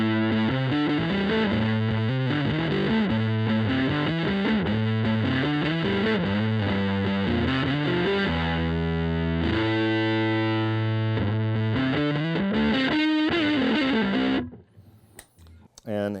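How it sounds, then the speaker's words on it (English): Heavily distorted vintage 1960s-style fuzz pedal guitar plays a riff of sustained, buzzing chords and bends, loud and saturated, before stopping near the end. "It's great for sort of stoner sounds, fuzz, vintage 60s fuzz."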